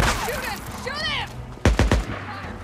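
Gunfire in the video game Days Gone: a few sharp, loud shots in quick succession follow shouted voices and game sounds, close and punchy.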